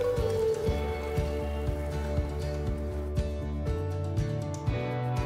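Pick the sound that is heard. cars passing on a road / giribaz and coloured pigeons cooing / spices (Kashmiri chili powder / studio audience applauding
spices (Kashmiri chili powder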